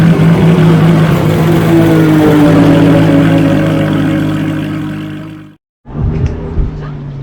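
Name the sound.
Lamborghini Huracan LP610 V10 naturally aspirated engine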